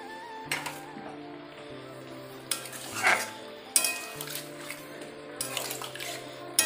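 Fish curry cooked down with spices sizzles in a pan as water is poured in, with bursts of hissing and stirring scrapes over steady background music.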